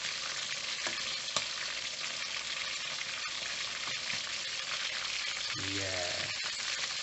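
Beer chicken, a Philippine pulutan made with San Mig Dark, fries in oil in a pan with a steady loud sizzle and occasional pops, and a brief voice is heard near the end.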